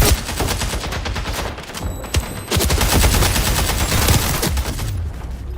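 Rapid pistol gunfire in the Splitgate 2 arena shooter video game: dense, loud, repeated shots in quick succession, close and continuous across the whole stretch with only a brief lull partway through.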